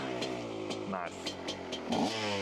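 Two-stroke dirt bike engine running in snow, a steady buzzing drone with brief rev changes, heard at moderate distance through background noise.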